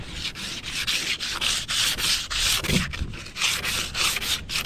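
Sandpaper rubs back and forth over wood in steady, rhythmic strokes, close and continuous with no voices.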